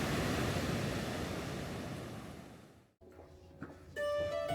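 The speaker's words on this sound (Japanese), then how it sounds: "穏やかな波の音を独り占めできる贅沢な朝散歩でした。" Soft, washing roar of gentle waves at a beach in Kyoto on a morning walk fades away, then a quiet pause with faint tones and a brief rising hum at the end.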